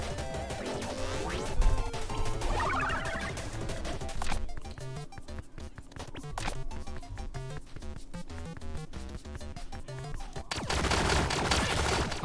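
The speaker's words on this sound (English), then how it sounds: "Oh, now they have machine guns." Machine gun fire in the top-down shooter Relic Hunters Zero, a long run of rapid, evenly spaced shots rattling over busy game sound effects and music, loud and continuous before the mix swells again.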